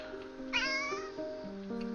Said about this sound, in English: As you can hear one of our cats meowing at me.